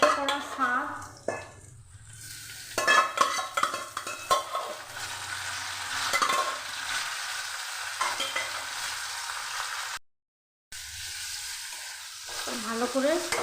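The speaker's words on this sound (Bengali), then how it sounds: "শাক, আলু, বেগুন ভালো করে মিশিয়ে নিচ্ছি ভেজে ভেজে, যেন শাক বেগুন একসঙ্গে মিশে যায়।" Boiled greens, eggplant and potato are stir-fried together in a pan, giving a loud continuous sizzle with repeated scraping and clinking of a spatula against the metal, and a short break near the end.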